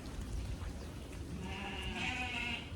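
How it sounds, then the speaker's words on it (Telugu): Australian goats bleat from a large farm herd, a few calls rising clearly over the rough background of the flock. "వీటిని అయితే ఆస్ట్రేలియన్ మేకలు అంటారు."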